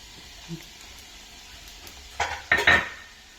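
Green chillies frying in a pan for mango dal, a low sizzle under a few loud metallic clinks and scrapes of a spoon stirring near the end.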